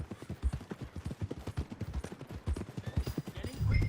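A horse walks along at a steady pace in a Western-style video game, its hooves clip-clopping in quick, regular beats, close and fairly loud, and a low rumble swells near the end.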